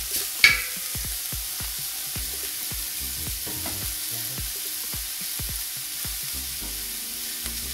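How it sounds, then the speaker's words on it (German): Minced meat fries in a smoking-hot pan with a continuous loud sizzle, punctuated by a regular series of sharp scraping and tapping strokes from a spatula as the meat is pushed around; no talking. "Und jetzt packen wir das Gehacktes hier rein. Braten das schön an jetzt gleich."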